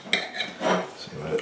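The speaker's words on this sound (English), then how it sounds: "I'm still going to use a bread knife and cut it in two" A bread knife saws through a freshly baked floury bap, cutting it in two with a few short scraping, rasping strokes heard up close and alone.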